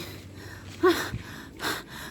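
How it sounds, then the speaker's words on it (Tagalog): A person nearby is breathing heavily and panting after exertion. Two or three loud, rough breaths and gasps come in short bursts with quiet gaps between them, and no speech is heard. "Hingal."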